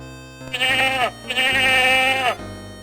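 Two long, wavering sheep bleats from the DOS game Freddy Pharkas: Frontier Pharmacist, close and clear, with a short pause between them and no talking.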